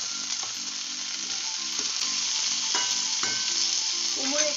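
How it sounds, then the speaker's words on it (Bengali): Diced pumpkin fries in a pan with vegetables, giving a steady, close hiss of sizzling oil broken by a few light stirring clicks, with no talking. "এবারে দিয়ে দিচ্ছি ডুমো ডুমো করে কাটা কুমড়ো।"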